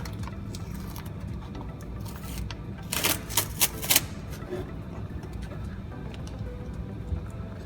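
Adhesive tape is peeled off a refrigerator panel in a Combo Plus V7 refrigeration unit, giving a quick burst of crackly tearing and ripping over a few seconds against a low steady background hum.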